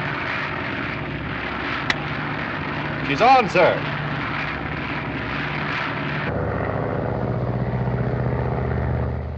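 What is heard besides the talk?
radio-controlled airplane flying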